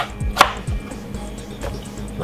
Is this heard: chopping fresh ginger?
yes